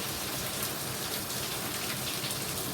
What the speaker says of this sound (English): It's raining heavily here, so I'm talking a bit loud.